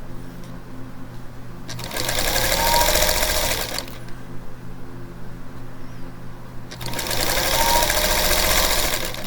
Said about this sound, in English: And I'm just sewing 1/4 of an inch.